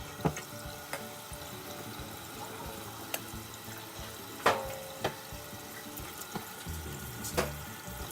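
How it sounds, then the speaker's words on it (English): Warm tap water runs into a small plastic bowl, a quiet steady trickle broken by a few soft splashes and clunks, with no talking. "I'm just going to fill it up with some warm water"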